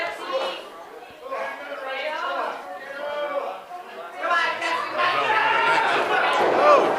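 A wrestling crowd at a CWF Bragging Rights match cheers and chants for Kaito Kiyomiya, a steady swell of many voices that grows louder toward the end, with commentators talking over it.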